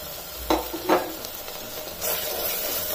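Spices and mint sauté lightly in a pan for nombu kanji, two quick stirring scrapes over a faint hiss, then a fuller steady sizzle toward the end.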